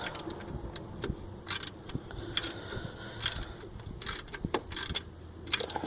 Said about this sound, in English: I'm not gonna let you guys watch me ratchet this thing